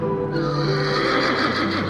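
A horse whinnies in a loud, sustained neigh that fills the whole moment, with faint hoof clip-clop mixed in.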